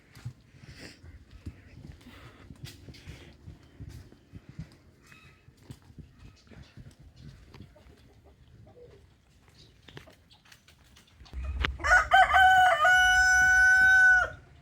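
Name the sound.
chickens and rooster crowing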